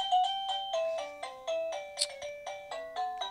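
A doorbell rings in a quick run of repeated chime tones, clear and fairly close, about a dozen rapid dings with no talking.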